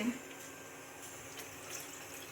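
A thin, steady stream of water pours and trickles quietly for a couple of seconds into a pot of partly cooked finger millet, soft and nearby.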